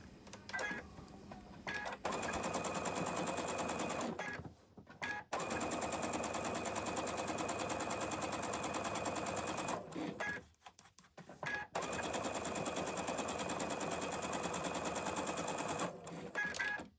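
Sewing machine stitching cotton fabric onto a holiday stocking runs in steady rapid bursts, pausing briefly between runs, close and fairly loud.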